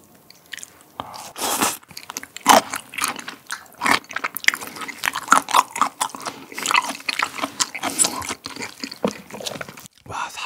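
Raw, live black tiger shrimp dipped in chojang sauce are bitten and chewed up close. Wet, crunchy bites and squelches come in irregular bursts, loud and intimate, with no talking.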